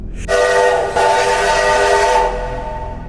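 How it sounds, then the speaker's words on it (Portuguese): A train whistle sounds at a railway station as a single sustained, harmonic blast lasting about two seconds. It starts abruptly, dips briefly near its middle, then cuts off and leaves a low background hum. "Era o apito de um trem"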